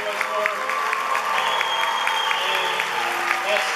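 A school audience applauds after a pianist's performance at a teacher's farewell event, steady dense clapping throughout with some crowd noise and faint voices mixed in.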